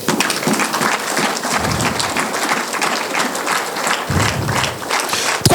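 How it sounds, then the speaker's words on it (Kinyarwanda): A church congregation claps together in praise, a dense burst of applause with uneven rhythm that keeps going steadily throughout. "mwakomye Imana amashyi."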